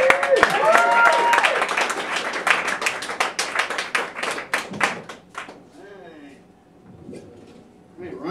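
Audience applause for a comedian taking the stage, dense clapping for several seconds that thins to scattered claps, with voices and a whoop over it.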